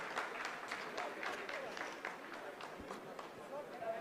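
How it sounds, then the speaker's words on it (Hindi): Applause from a room of ISRO scientists after the Chandrayaan-3 descent phase: steady, dense clapping that carries through the clip at moderate level, with crowd noise and voices mixed in. "आप इस तालियों के गड़गड़ाहट को सुन सकते हैं"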